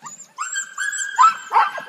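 Sled dogs, husky-hound mixes at a musher's camp in Skagway, give excited high whines and yips that rise into a couple of short barks, close and clear with no talking.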